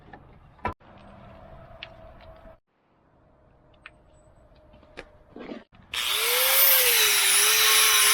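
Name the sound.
power drill drilling holes in steel square tube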